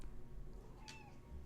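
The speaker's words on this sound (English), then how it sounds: "I hear a singing cat." A house cat lets out one short, faint meow with a slight singing rise, heard in the distance over a steady low background hum.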